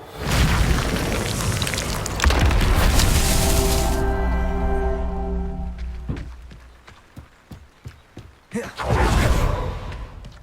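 The Reparo repair spell in Hogwarts Legacy: a loud, broad whooshing rush lasting several seconds that settles into a sustained, resonant ringing tone and fades, followed by scattered soft taps and another brief rushing burst.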